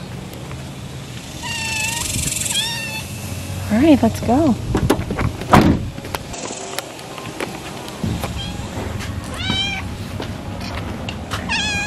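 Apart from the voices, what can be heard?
kitten meowing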